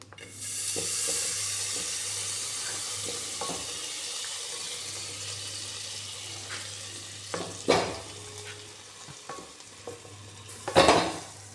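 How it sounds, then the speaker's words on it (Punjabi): Butter sits in a pot on a gas stove while being turned into ghee, giving a low steady hiss with scattered clinks and a couple of louder metal scrapes near the end, no talking. "ਗੈਸ ਦੇ ਉੱਪਰ ਅਸੀਂ ਪਤੀਲਾ ਰੱਖਤਾ ਤੇ ਇਹਦੇ ਵਿੱਚ ਅਸੀਂ ਮੱਖਣ ਪਾਵਾਂਗੇ"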